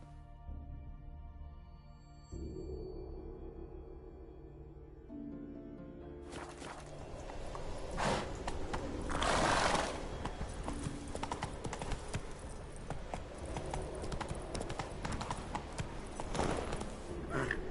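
Roach the horse from The Witcher 3 trotting in-game, a steady rhythmic clip-clop of hooves that grows louder and fuller partway through, layered over game ambience and music.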